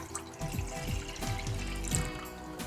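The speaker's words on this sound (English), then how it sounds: "In a pan, add a liter of water." Water poured from a container into a cooking pan, a steady close-up stream of splashing and trickling that runs continuously with slight surges throughout.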